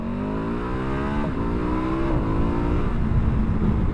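A KTM 1290 Super Adventure S motorcycle accelerating hard in a roll-on from 60 to 100, its engine note climbing steadily with two quick gear shifts, loud and close with no talk.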